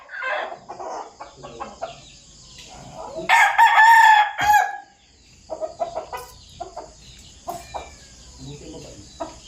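A Sweater gamefowl rooster from a game farm crows loudly and close, one long strained call among scattered clucks and other bird noises, with faint human voices nearby.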